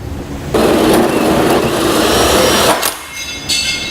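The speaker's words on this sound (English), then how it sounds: "So now I'll take a hole saw that's the size that is listed in the instructions, and then I'll use that pilot hole in order to drill this out" A hole saw cuts through the metal bed of a 2008 Chevrolet Silverado pickup, a loud, close grinding whine sustained for about two seconds before it winds down, with a brief revving spurt after.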